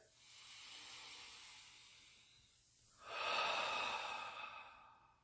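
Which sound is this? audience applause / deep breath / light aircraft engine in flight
deep breath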